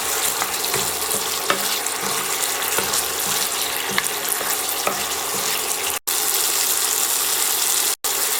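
Pork ribs stir-fry in red curry paste in a pan, giving a continuous loud sizzle with a regular series of spatula scrapes and stirs, briefly cut off twice near the end.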